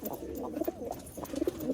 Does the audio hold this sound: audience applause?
no